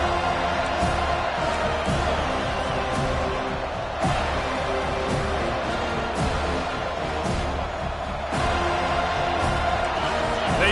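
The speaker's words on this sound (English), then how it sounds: "They challenge this crowd to bring the energy, and I'd say they're doing that." A dense, roaring football stadium crowd at a Florida State Seminoles college game, cheering steadily and loudly throughout with a commentator talking over the noise.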